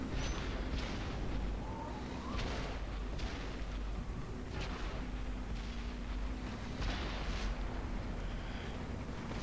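A Pz.Kpfw. IV Ausf. H fires its tank cannon in World of Tanks, with several muffled booming shots rising out of a constant roar of battle noise.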